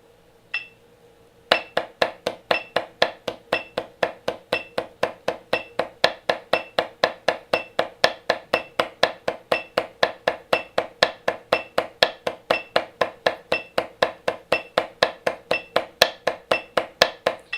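Drum double strokes in even sixteenth notes, four per beat, with the right hand landing on the beat: a long, steady run of crisp, evenly spaced taps played alone at a constant brisk tempo.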